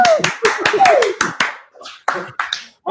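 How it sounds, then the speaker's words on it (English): A few people clap in quick, uneven bursts during a livestream, sharp hand claps close to the microphone with short pauses between them while voices talk over the clapping. "Keep clapping."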